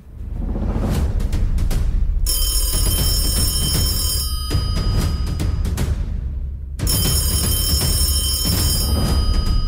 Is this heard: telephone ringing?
yes